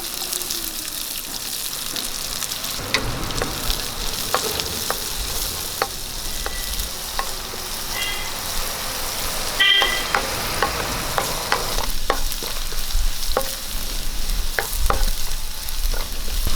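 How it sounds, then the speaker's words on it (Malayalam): Mustard seeds and chopped shallots fry in hot coconut oil with a steady loud sizzle, while a spoon scrapes and stirs the pan and occasional seeds pop. "ശകലം വെളിച്ചെണ്ണ ഒഴിച്ചു കൊടുക്കാം ശകലം കടുക് കൊടുക്കാം ഇനി കുറച്ച് ചുവന്നുള്ളി അരിഞ്ഞ് കൊടുക്കാം"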